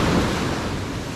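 A loud, continuous wash of ocean waves and surf, with wind buffeting the microphone, lasts for about a second.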